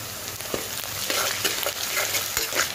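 Ginger garlic paste fries with onions in a hot pan, a steady close sizzle broken by scraping stir strokes at irregular intervals, with no voices.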